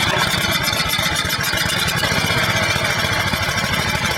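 A Honda engine running on gas vapors at full throttle gives a loud, steady, close clattering roar with rapid even firing pulses throughout, and nobody speaks.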